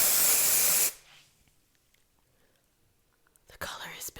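Salon Graphics High Beams Intense Temporary Spray-On Hair Color hisses from an aerosol can in a loud, close burst lasting under a second, then quiet, then a second shorter spray burst near the end.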